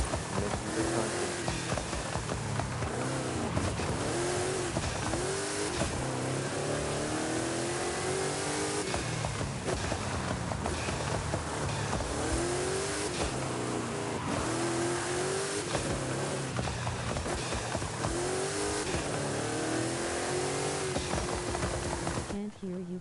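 A car engine in the video game Forza Horizon 5 revs loudly and repeatedly, climbing and dropping in pitch throughout, with engine noise filling the whole stretch like racing.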